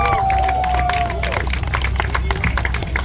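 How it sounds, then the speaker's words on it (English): Crowd applause and cheering at the podium ceremony of the NASCAR Canada Series WeatherTech 200 at Canadian Tire Motorsport Park, dense steady clapping filling the whole stretch, with a voice and crowd babble mixed in. "how about a round of applause for your podium in today's WeatherTech 200?"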